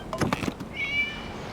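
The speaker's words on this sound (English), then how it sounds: "It was just a cat." A cat meows once in a video game, a short, clear rising cry heard just after a brief patch of clattering noise.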